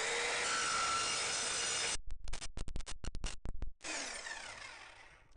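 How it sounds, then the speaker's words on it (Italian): A Parkside PTSS 1200 C2 plunge circular saw runs as a loud, steady whine for about two seconds, then cuts into wood in a rapid series of short rasping bursts before the blade spins down alone. "Adesso vediamo se va meglio, lo taglio da tutti i lati"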